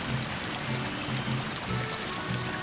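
Steady, rushing flow of river water from the video game Ocarina of Time, a continuous broadband wash at constant loudness with no speech.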